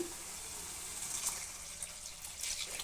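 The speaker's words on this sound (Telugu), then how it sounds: "నానబెట్టిన చింతపండు రసం తీసి పెట్టుకున్నాం కదా అది పోసుకోవాలండి" Soaked tamarind juice is poured into a pot for a tamarind-tomato rasam, a soft, steady liquid gush and splash heard close and fairly quiet, with no talking.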